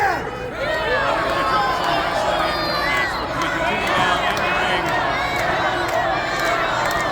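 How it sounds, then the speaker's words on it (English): A crowd at a professional wrestling title match roars and cheers in a frenzy, a dense continuous wall of shouting and whistles that fills the arena. "Bryn Watts bringing the crowd into a frenzy as he so easily does"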